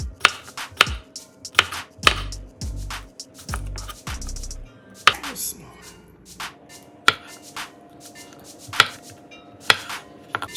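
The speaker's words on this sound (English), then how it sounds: "we're gonna cut up some cucumber" A knife chops cucumber on a board for a Greek salad, giving close, sharp strikes in an irregular rhythm with a few quick bursts of taps. No one speaks.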